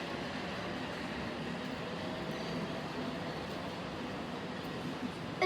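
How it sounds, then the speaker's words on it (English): Sydney suburban H set train coupled to an intercity H set at Strathfield, heard as a steady, fairly quiet broadband rumble of rolling carriages throughout, with no talk. "A suburban H set coupled with an intercity H set."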